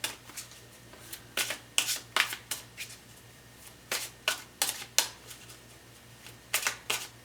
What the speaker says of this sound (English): Let's take another one for this.